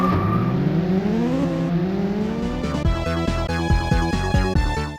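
Racing motorbike engines whine and rev in the 16-bit video game Kawasaki Superbike Challenge, rising pitched engine tones building over chunky, pulsing chiptune-style music, loud and continuous throughout.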